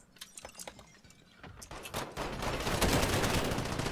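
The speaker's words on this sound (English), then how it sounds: "he was shooting. He hit him." Gunfire in the Warzone video game crackles in scattered bursts that build into a dense, loud fusillade toward the end.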